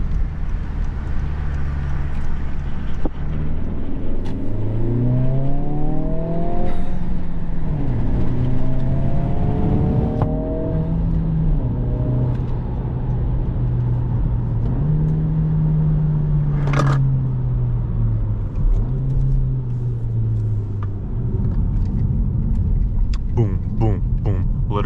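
A Honda Civic Si is driven hard, its engine revving up and down through rising and falling pitches with shifts between gears, heard from inside the cabin with a voice talking over it.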